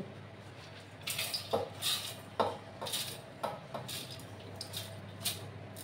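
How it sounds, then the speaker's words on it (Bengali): Soaked raw rice and whole green mung beans tipped into a mixer jar, giving a run of soft clattering, rattling pours and small knocks against the jar, fairly quiet and close, with no talk. "এবার আমি একটা মিক্সিং জার নিলাম, এটার মধ্যে এগুলো ঢেলে দিচ্ছি।"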